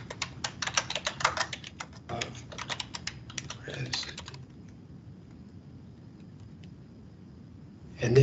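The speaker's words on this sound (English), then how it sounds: "I'm just going to type a brief scope of work" Rapid, close keystrokes on a computer keyboard rattle steadily for about four seconds, then give way to quiet room noise with a faint bump at the very end.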